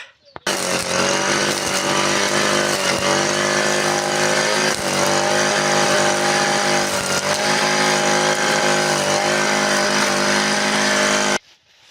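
A petrol brush cutter with a line head mows tall, neck-high grass, its engine whining loudly and continuously close by with slight pitch shifts as it cuts, then stopping abruptly.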